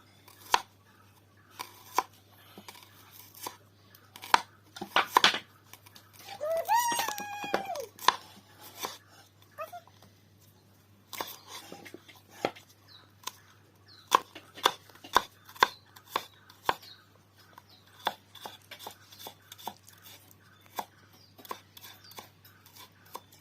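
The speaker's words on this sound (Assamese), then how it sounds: "এইটো পিঁয়াজ আৰু জলকীয়া কুটা হৈ গ'ল" Irregular bursts of knife chopping onions and green chillies on a board, quick uneven strokes close by, with brief pauses and a short vocal sound midway.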